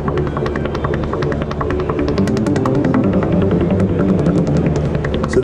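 Hollow Victory synthesizer patch at a NAMM trade show booth, a loud dense droning pad with a throbbing, rumbling low end and scattered bright flickers, sustained steadily throughout.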